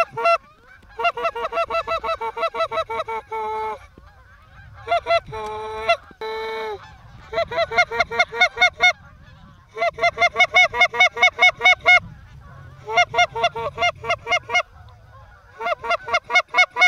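Geese honk in rapid, repeated bursts, a noisy flock calling in loud rhythmic volleys separated by short pauses, with faint background rustle.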